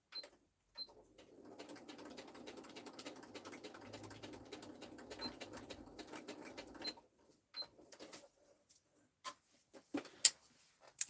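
Hand-sewing a flat craft piece closed at a crafting table: a steady soft rustle and tick of needle and thread pulling through paper-like material for several seconds, then scattered light taps and clicks, with no talking.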